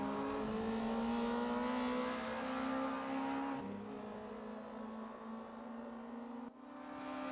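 A single race car from the Scirocco Sprint Series drones steadily around a corner at MotorLand Aragón, its engine note sliding lower as it passes and fades slightly, with a sharp click near the end.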